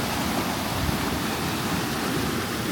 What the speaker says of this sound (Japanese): これがね、滝の真上ですね